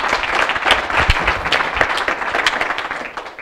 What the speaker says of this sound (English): Please another round of applause for Daan.